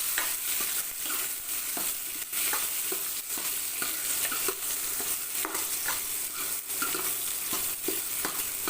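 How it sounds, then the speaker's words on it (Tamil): Small shallots sautéing in a pan for a spinach kadaiyal, giving a steady soft sizzle with regular scraping stir strokes throughout, close and without talk. "கொஞ்சம் நேரம் வதங்கட்டும்."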